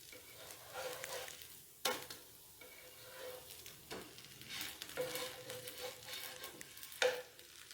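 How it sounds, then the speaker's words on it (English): A wet cloth is wiped across a hot tawa used for kodo millet dosa, giving a close steamy sizzle with soft scraping strokes and sharp hissing bursts, no voices. "you can just wipe the tawa with a wet cloth"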